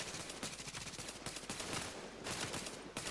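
Rapid automatic gunfire from a firefight in the video game Tom Clancy's The Division, with continuous crackling bursts of shots running unbroken and loud throughout, no talk.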